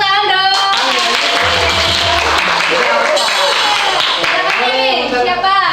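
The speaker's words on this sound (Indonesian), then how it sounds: "Boleh tepuk tangan dong." Audience clapping for a student participant at a school quiz, loud rapid clapping mixed with young voices and crowd chatter throughout.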